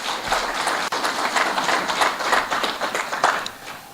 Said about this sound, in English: please make a round of applause